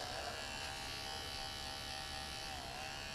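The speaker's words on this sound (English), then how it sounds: "it's also a nose trimmer, but I'm going to trim up by the ears" A Remington electric nose trimmer trims hair up by the ears with a steady, faint, high-pitched buzz. The tone holds even throughout, close up and with no talk.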